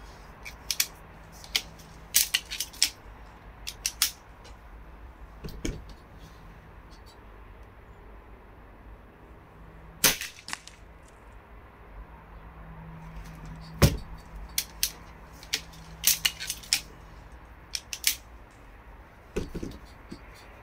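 A 4.5-joule air rifle's shots strike a block of ice, giving a scattered series of sharp, short cracks and impacts at irregular intervals against a quiet background, with no voices.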